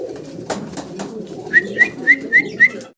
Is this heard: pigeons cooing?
yes